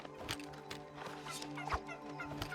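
Turkeys in New World gobble in rapid, rattling bursts over a steady game backdrop, close and moderately loud, with no one speaking.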